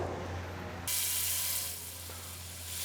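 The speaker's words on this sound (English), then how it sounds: "All right, time to flip the meat." Flank steak sizzles loudly on a grill preheated to 550 degrees right after being flipped, a steady bright hiss that jumps up sharply and then holds, with no talking.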